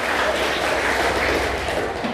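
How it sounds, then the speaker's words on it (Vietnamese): Participants at a Buddhist doctrine discussion session applaud together in a dense, continuous patter of many hands, moderately loud and even throughout, with faint voices mixed in. "vỗ tay đi quý vị"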